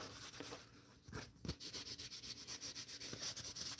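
Light hand sanding with a foam block, a soft rhythmic rubbing of quick back-and-forth strokes, quiet and close with a short pause partway through.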